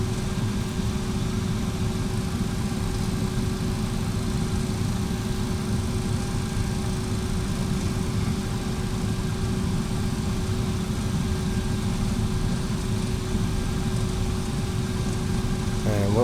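A steady MD80 jet engine drone in X-Plane 11, loud and unbroken, with a low rumble and a constant tonal whine holding for the whole stretch.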